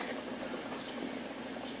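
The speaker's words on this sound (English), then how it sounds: "This is starting to boil now, so we're going to turn the heat way down." A pot of jambalaya on the stove coming to a boil, giving a steady, soft bubbling and simmering hiss that stays even and close throughout, with no voices.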